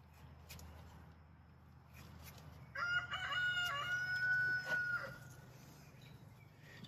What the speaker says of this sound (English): Greetings from the rooster in the background.